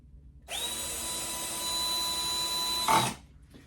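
A power drill driving screws into pre-drilled holes whirs up sharply, runs at a steady high whine for a couple of seconds, then stops with a short clunk, close by.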